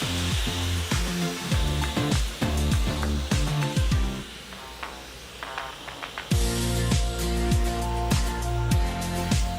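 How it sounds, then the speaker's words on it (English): A handheld hair dryer blows hair dry after a K18 leave-in repair mask, a steady close whir broken by repeated quick on-off switching and speed changes, with no talking. "I'm gonna go ahead and dry my hair."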